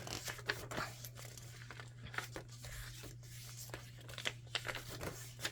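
Dyed paper in a grungy, chunky gothic Halloween junk journal is handled and crinkled close up, giving a steady run of dry rustles and sharp crackling snaps over a low hum.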